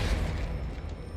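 Depulso force spell cast in Hogwarts Legacy, a single dull, bassy whoosh-boom that fills the short moment with rumbling low-end weight, fairly loud and close, with no voices.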